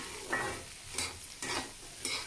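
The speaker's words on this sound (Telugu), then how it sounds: "ఒకసారి కలిపేసేయండి కాస్త బెండకాయలు వేగనివ్వండి" Okra frying in a pan gives a soft, quiet sizzle, with the rhythmic scrape of a spoon stirring the pieces several times in quick succession.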